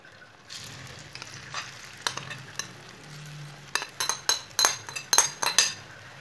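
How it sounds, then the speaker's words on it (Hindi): Leftover roti pieces in hot oil, sizzling softly while a spoon scrapes and clinks against the pan in a quick series of sharp stirring knocks that grow busier toward the end. "ऑयल हमारा गर्म हो चुका है, मिक्स की हुई रोटियां डाल लेंगे।"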